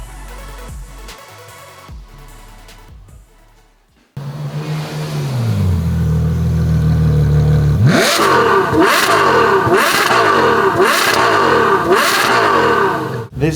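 A modified Ferrari GTC4 Lusso with a 6.3-liter front-mounted V12 and Capristo exhaust idles, then revs hard in a string of about six sharp, loud blips with crackling falloff, preceded by a brief quieter engine passage.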